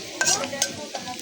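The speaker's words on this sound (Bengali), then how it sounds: "ডাল বাগার দিতেছি" Dal is tempered with garlic and dried chillies in hot oil, a brief, close sizzle with a few stirring clinks.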